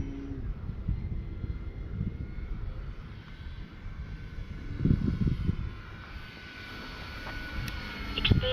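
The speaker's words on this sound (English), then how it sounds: "This is just a good solid flying plane, right?" An Arrows RC Tecnam model airplane drones steadily overhead, its engine hum fairly faint and distant, swelling slightly in a few passes against light wind noise.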